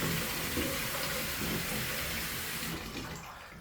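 Water gushes steadily from a laundry sink tap during a flow test, a constant close hiss of running water that thins out near the end as the tap is shut off.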